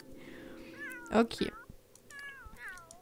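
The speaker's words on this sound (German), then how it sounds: "Na, kleine Katze hier." A pet cat in the video game The Sims 3 meows several times, short rising and falling calls spread across the moment, heard beneath someone talking and a louder voice burst in the middle.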